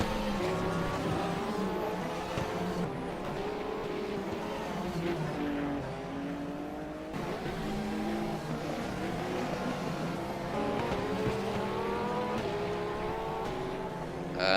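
Race cars, including LMP2 prototypes in a tight pack, roar past continuously in a Le Mans series sim racing game at Estoril, with layered engine notes rising and falling throughout and no talk over them.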